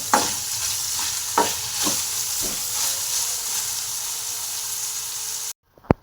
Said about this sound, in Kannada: ಹಾಗೆ ನಾವು ತಗೊಂಡಿರೋಂತಹ ಈರುಳ್ಳಿ, ಮೆಣಸಿನ್ಕಾಯಿ, ಕ್ಯಾರೆಟು, ಕ್ಯಾಪ್ಸಿಕಮ್ಮು ಹಾಕೋಬೇಕು. ಇದನ್ನು ಚೆನ್ನಾಗಿ ಫ್ರೈ ಮಾಡ್ಕೋಬೇಕು.